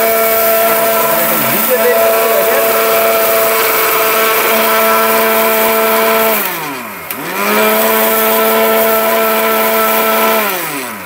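A robot blender grinds cumin seeds with a loud, steady, high-pitched motor whine that briefly sags and winds back up partway through, then carries on.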